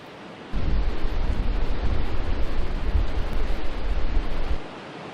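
Ocean surf rolls in on an Oregon coast beach, a loud broad wash of breaking waves that builds suddenly and holds for about four seconds before fading, mixed with wind noise and no voices.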